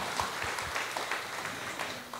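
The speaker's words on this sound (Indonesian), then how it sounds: "Tepuk tangan untuk diri kita masing-masing." A church congregation applauding, a steady wash of many hands clapping at moderate distance, lasting a couple of seconds without a break.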